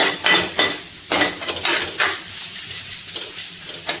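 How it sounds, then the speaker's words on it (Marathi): Rasam spices with turmeric and asafoetida being stirred in a pan, a spoon scraping and clattering in repeated strokes over a steady sizzle, close and fairly loud with no talk. "आता व्यवस्थित मिक्स करून घ्यायचे"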